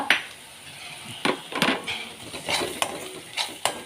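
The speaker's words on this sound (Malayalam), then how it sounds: "എന്നിട്ട് നല്ലവണ്ണം വഴറ്റുക." Onion and crushed ginger are sautéed in a pan for an egg curry, with a metal spoon clanking and scraping against the pan in irregular bursts over a soft sizzle.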